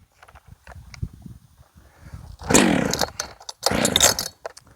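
A Redmax 621 chainsaw revs up in two loud bursts as it cuts into wood, separated by quieter idling and clatter, close to the microphone.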